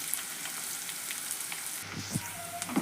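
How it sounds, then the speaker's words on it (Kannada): Avarekalu field beans fry in hot oil for a North Karnataka palya, giving a steady, close crackling sizzle with soft stirring knocks near the end. "ಇದು ಎಣ್ಣೆಯಾಗ ಫ್ರೈ ಆಗಾಕತ್ತೈತಿ"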